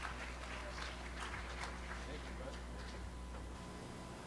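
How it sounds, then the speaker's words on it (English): A symposium audience applauds to welcome a speaker to the stage, a steady, dense wash of clapping that holds evenly for about four seconds at moderate distance. "Clap it up. Make some noise."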